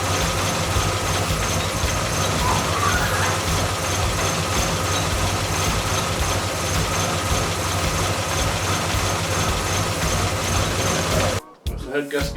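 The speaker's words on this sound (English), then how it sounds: "Head gasket done and the engine all running now." A car engine idles steadily after a head gasket replacement, a constant low rumble with a light rhythmic ticking, running loud and close before cutting off abruptly near the end.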